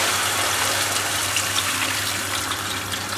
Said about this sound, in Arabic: نضيف توا الماء سخون